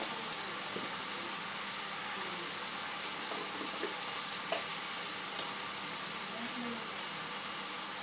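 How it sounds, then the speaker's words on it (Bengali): Katla fish curry frying in a pan with winter vegetables and ground cumin and coriander being stirred in, a steady soft sizzle with occasional light spoon clinks and scrapes. "আবার সব কিছু ভালো করে মিক্স করে নেব।"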